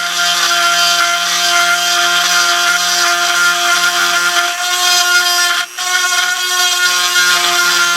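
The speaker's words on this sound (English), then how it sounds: "This Dremel tool has a tendency to want to walk out" A Dremel rotary tool grinds into a metal fishing-lure mold, giving a loud, steady high-pitched whine with a constant tone that dips briefly once and then resumes.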